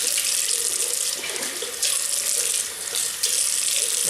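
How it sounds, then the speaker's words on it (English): Tap water runs steadily into a sink, rinsing soap off a Merkur Vision double-edge razor, a loud, close, continuous hiss and splash with brief changes as the razor passes through the stream. "Just rinsing the soap off, ready for the second pass."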